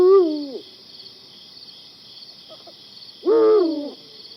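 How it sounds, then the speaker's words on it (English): A Eurasian eagle owl hoots in courtship for a female at night, giving two deep, resonant calls separated by a pause, with faint crickets chirping steadily in the background. "The eagle owl, the grand duke, hooting for the female."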